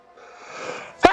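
A single sharp sneeze bursts out at the end, near and loud, after a stretch of quiet breathy background murmur in a sim racing commentary setting.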